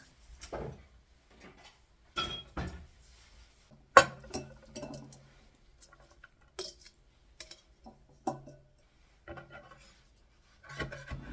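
Washed, desalted seaweed (miyeok) stems sliced into short pieces with a knife on a cutting board, a close series of crisp irregular cuts with quiet gaps between them and no voices.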